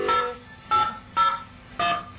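A phone keypad dialed for a Thai radio call-in show gives four short electronic tone beeps, evenly spaced with brief gaps, clear and close with no talking.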